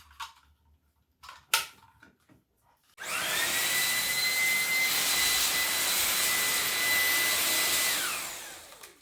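A Xiaomi Dreame V11 cordless stick vacuum switches on after a few faint clicks and handling sounds, then runs with a loud, steady high-pitched whine and rushing airflow for several seconds before it shuts off.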